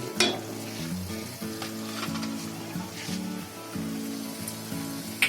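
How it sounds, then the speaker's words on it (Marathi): Green masala paste frying in oil for an egg malai curry, a continuous soft sizzle and bubbling with occasional spoon scrapes, steady and close, with a low background hum. "हा मसाला आहे ना, आता चांगला 2-3 मिनिटं भाजून घ्यायचा तेलामध्ये. मसाला चांगला फ्राय झालाय बघा."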